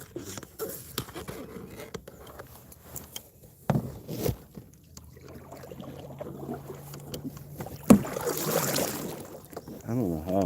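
Paddle strokes and water splashes from a small boat out fishing on Lake Wilhelm, irregular knocks and swishes, with thumps of the hull and a short burst of louder splashing near the end.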